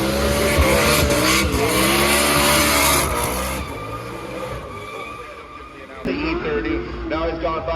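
A drift car at the Goodwood Festival of Speed hillclimb: engines roar loudly with tire squeal and skidding, the sound fading and then surging again near the end; a voice talks faintly underneath.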